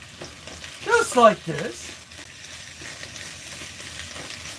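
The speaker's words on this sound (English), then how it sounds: "You all can hear it. It's sizzling good in there." Celery and onion sizzling in a hot pan while cooking chicken lo mein, a steady close frying hiss running under a brief stretch of speech.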